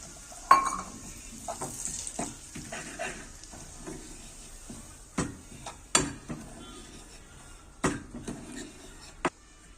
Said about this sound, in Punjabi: ਹੁਣ ਆਪਾਂ ਦੇਸੀ ਘਿਓ ਨੂੰ ਗਰਮ ਕਰਕੇ ਇਹਦੇ ਵਿੱਚ ਸੂਜੀ ਭੁੰਨਾਂਗੇ